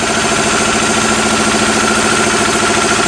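An engine idles under butterfly throttle control, giving a loud, continuous, even mechanical drone with a fast steady pulsing rhythm and no pauses.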